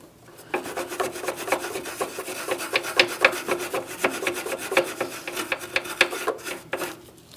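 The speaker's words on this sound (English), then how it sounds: "I'm going to use a wire brush." A wire brush scrubs rust off the battery mounting bolt area of a 2004-2008 Pontiac Grand Prix, making quick repeated rasping strokes, close up and fairly loud, with no talking.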